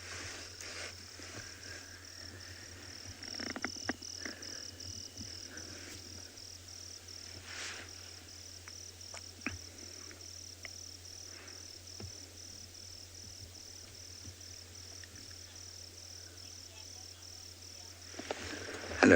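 Crickets chirp at night near a waterhole on a South African safari, a faint steady pulsing trill in the background over a low hum, with occasional small knocks and rustles.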